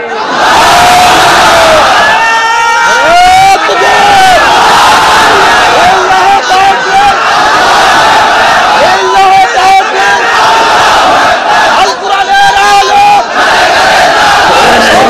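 A large religious gathering roars Allahu Akbar in unison after a takbir call at a Bangla Islamic sermon, loud massed voices in repeated surging bursts with a few separate cheers.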